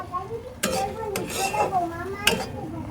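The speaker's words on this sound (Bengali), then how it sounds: "এভাবে নাড়তে নাড়তে একটি ডো তৈরি করে নেব" Semolina dough being stirred in a kadai until it pulls away from the pan: a few sharp metal scrapes and knocks of the spoon against the pan over a soft thick churning, close up, with faint voices behind.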